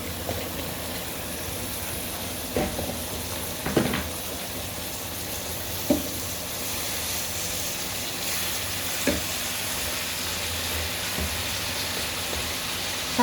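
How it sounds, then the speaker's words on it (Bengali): Bitter gourd pieces hit a frying pan of half-fried ginger and sizzle steadily, with a few sharp taps of stirring rising above the hiss. No one speaks. "এরকম হাফ ভাজা করে আমি এখন করলাগুলো দিয়ে দেবো"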